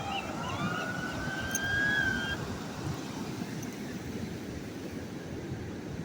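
A distant Coast Guard siren wails with rising and falling tones over a steady outdoor rumble of surf at a beach, fading after a few seconds.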